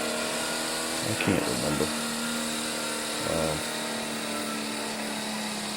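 Antique Massey Harris tractor with a turbocharged six-cylinder flathead and four-barrel carburetor, a steady engine drone at an outdoor tractor pull, with brief talk nearby over it.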